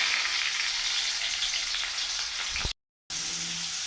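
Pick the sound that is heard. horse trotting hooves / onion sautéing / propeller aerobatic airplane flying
onion sautéing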